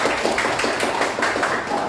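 A classroom of junior high students applauding, a brief dense burst of clapping at close range.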